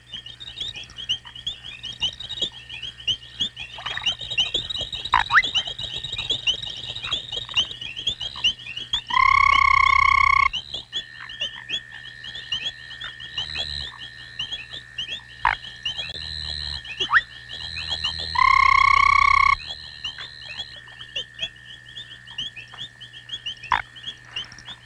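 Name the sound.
foam frogs croaking by a pond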